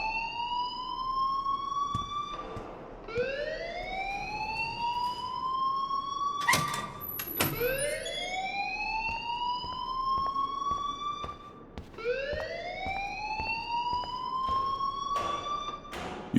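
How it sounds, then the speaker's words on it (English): Fire alarm in the video game Life is Strange, blaring as a rising electronic siren whoop that repeats about every four seconds, loud and steady with no talk. "please turn off that alarm since that's your job"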